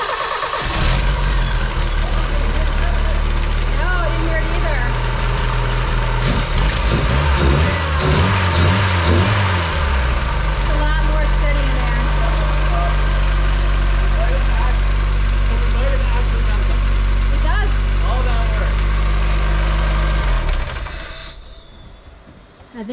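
A car engine idling steadily after being started, a close low rumble heard from near the engine bay, running evenly for about twenty seconds before cutting off at the end.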